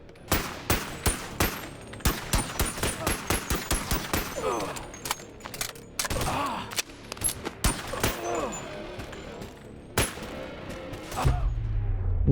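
Rapid handgun fire in the VR game Boneworks: sharp repeated shots in quick bursts, loud and close, with a few pauses and faint speech between volleys.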